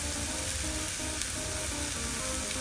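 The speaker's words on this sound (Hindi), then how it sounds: "गाजर और शिमला मिर्च को भी हम अच्छे से 2 से 3 मिनट पका लेंगे।" Carrots and bell pepper sizzle steadily in hot oil in a pan with spices as filling is cooked for wheat-flour aloo puffs, a constant close crackling fry with no talk.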